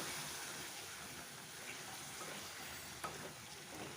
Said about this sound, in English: Okay, stir it.